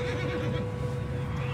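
A horse in the western game Red Dead Redemption 2 lets out a short, loud whinny over a low background rumble.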